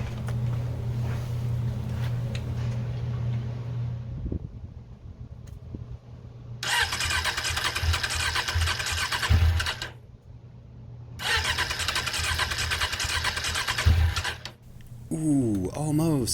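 Suzuki Katana motorcycle engine cranking over and over in two long, loud bursts of the starter whirring against a steady low hum, without catching, with a voice speaking briefly near the end.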